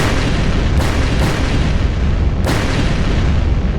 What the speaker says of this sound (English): A series of explosions destroyed the entrance where we escaped.